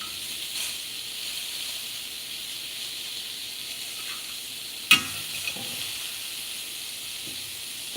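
Shrimp cook in a pan with a little sauce, giving a soft steady sizzle and hiss with one sharp clack near the middle and a fainter knock after it. The sound is fairly quiet and has no talking.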